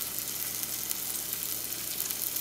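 Coconut oil sizzles steadily in a frying pan, a close, even hiss with no voices.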